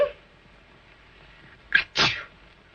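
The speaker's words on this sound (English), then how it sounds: "My goodness, she sneezed." A girl sneezes in a 1936 film scene, with a short sharp inhale catch followed by a loud explosive sneeze, close and clear against near silence.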